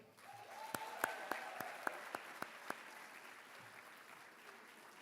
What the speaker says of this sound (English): a loud round of applause for our fall all-conference members